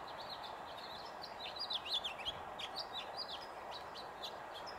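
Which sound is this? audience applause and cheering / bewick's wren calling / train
bewick's wren calling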